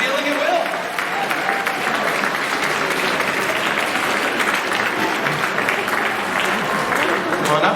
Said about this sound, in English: Let's give Jody a big round of applause